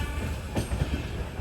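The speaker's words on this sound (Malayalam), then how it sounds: "ട്രെയിൻ ഇപ്പോൾ ഝാൻസി റെയിൽവേ സ്റ്റേഷനിലേക്ക് എത്തുകയാണ്" Himsagar Express rolling into Jhansi railway station: a steady low rumble of the moving train with faint wheel and carriage noise, continuous and fairly quiet, no voices.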